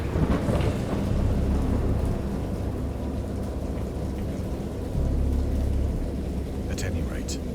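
A thunderstorm rumbles with deep, continuous low thunder and steady rain, playing as a sound effect under a man reading aloud throughout.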